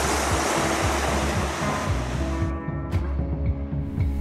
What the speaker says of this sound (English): Every turn we made as we worked our way up the canyon, there was another waterfall.